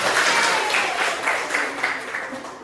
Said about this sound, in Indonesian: Oke, tepuk tangan mereka semua.